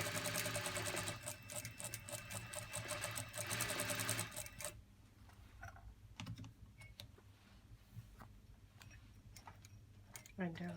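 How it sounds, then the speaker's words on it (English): A sewing machine runs fast at first, then slowly stitches a garment neckline with sparse, faint ticking stitches, close by and quiet. "we're slowly just moving the fabric along and stitching very slowly"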